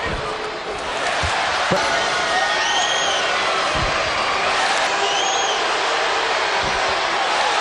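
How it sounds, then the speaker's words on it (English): Crowd in a basketball arena cheers and roars steadily, with whoops, sharp ball bounces and thuds scattered through it, while a commentator talks over the noise. "the crowd is just absolutely jazzed up here"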